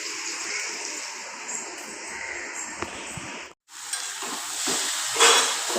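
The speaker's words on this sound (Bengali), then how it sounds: "এদিকে কাঁকরোল ভাজা হচ্ছে" Spiny gourd (kakrol) frying in a pan in a home kitchen, a steady close hiss and sizzle that briefly cuts out, then resumes with light stirring scrapes.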